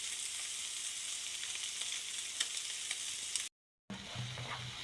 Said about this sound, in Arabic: كنسوطيو مزيان بالطريقه هذه